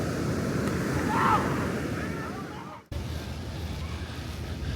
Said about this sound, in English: there'll be like these low spots in the beach where the water can come up a lot further